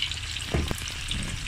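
Stuffed tofu frying in hot oil in a home kitchen, a steady close crackling sizzle with a few brief louder pops and stirring sounds, no voices.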